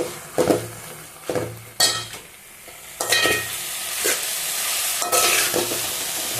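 A spoon stirs tomato, onion, mint and coriander frying in a pan for a spicy chutney, with repeated scraping strokes over a steady close sizzle and occasional clinks against the pan.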